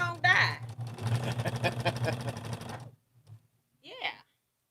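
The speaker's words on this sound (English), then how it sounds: "I'm just going to sew pieces until I can, get them reduced." A sewing machine stitches quilt pieces, a steady close mechanical whirring with rapid needle ticks for about three seconds before stopping, with brief voice sounds around it.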